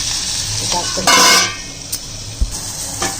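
Egg bhaji masala with cumin, garam masala and Malvani spice being stirred in a pan, a steady sizzle broken by a few louder scrapes and clinks of the spoon against the pan.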